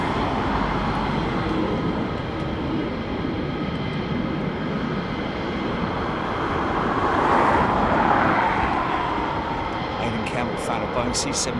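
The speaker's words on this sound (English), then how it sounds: "Boeing C-17 Globemaster coming up from Portsmouth." A Boeing C-17 Globemaster military transport aircraft flies past with a broad, steady jet roar that swells slightly midway, heard outdoors at a distance while people talk over it.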